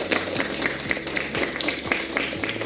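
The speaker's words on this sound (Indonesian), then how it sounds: "Mari kita tepuk tangan untuk kita semua." A group in a workshop session claps together in a steady, evenly spaced rhythm, moderately loud, with no speech over it.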